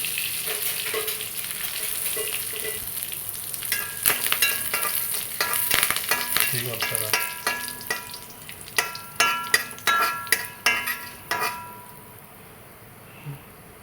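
Curry leaves, cinnamon, cardamom and cloves drop into hot oil for a mutton dish, crackling in a burst of loud sputtering pops that thins out and fades to near quiet.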